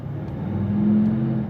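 A brand-new V8 Toyota Land Cruiser on 35-inch tyres accelerating in second gear on a dyno, a close, steady low engine drone that swells gently as the throttle is eased on.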